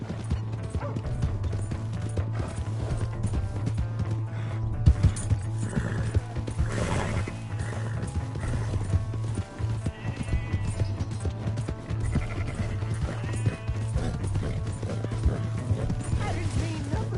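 Hooves pound in a steady galloping rhythm over a constant low rumble, with a horse whinnying and faint game sounds mixed in.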